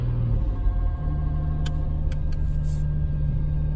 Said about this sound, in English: Let me drive a little bit forward and see if we can inspect it properly over there.